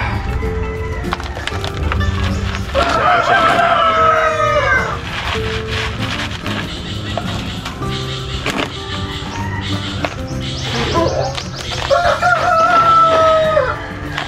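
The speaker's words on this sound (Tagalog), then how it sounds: "Pasensya na kayo sa aking mga alagang manok na napaka-iingay talaga." Pet chickens in a home garden cluck loudly and close by, while a rooster lets out two long, strained crows, one early and one near the end, over steady background clatter.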